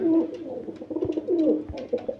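A Rampuri male pigeon and a Teddy female pigeon coo together at close range, with repeated soft rolling phrases in an uneven rhythm and no voices.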